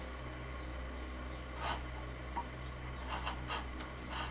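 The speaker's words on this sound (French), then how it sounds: "Et après, je prends le ciseau pour finir" A hand chisel chamfers a piece of wood in a woodworking shop, with a few faint, short scraping cuts toward the end over a low steady hum.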